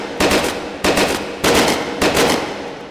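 Submachine gun in the VR shooter H3VR fired on two-round burst mode: four loud, close bursts, each a quick sharp double report, spaced about 0.6 seconds apart with short ringing tails.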